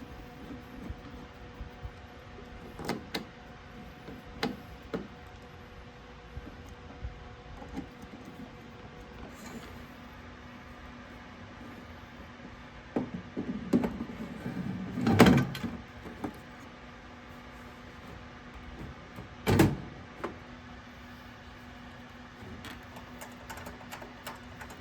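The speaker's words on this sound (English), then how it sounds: "I'm putting these side panels back on." Side panels are refitted onto a Tascam CD-A750 tape player, giving scattered close clicks, scrapes and metallic knocks, with a louder cluster of handling noise midway and a sharp clunk near the end, over a quiet room hum.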